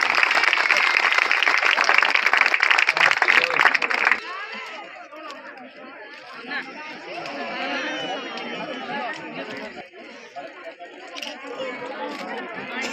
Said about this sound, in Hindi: सर के स्वागत में बहुत जबरदस्त ताली होनी चाहिए